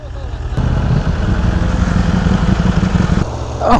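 A BMW S1000RR or Ducati Panigale V4S superbike holds a wheelie, its engine a loud, close, sustained roar that cuts in sharply, holds steady for about three seconds, then drops off.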